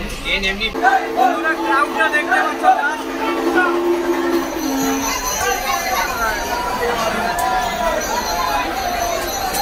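Pilgrims crowd a Tarakeswar yatra train in Bengal, a dense murmur of many voices and chatter carrying over the rumble of the moving carriage, with a brief tonal hum early on.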